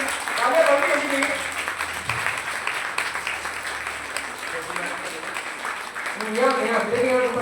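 Audience applause: a steady wash of crowd clapping with a voice talking over it at the start and again near the end.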